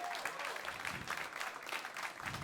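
A comedy club crowd claps in a dense, fairly quiet burst of applause that runs steadily throughout, with a few voices faintly mixed in.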